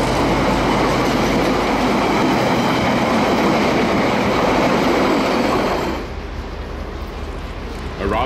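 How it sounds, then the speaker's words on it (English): Two diesel locomotives, DA 1431 and DA 1410, run coupled in tandem with a loud, close, rumbling roar and rolling wheel noise that eases to a quieter, more distant level after a few seconds. "The first day of the return leg saw diesel locomotives DAs 1431 and 1410 running elephant style from Invercargill to Dunedin"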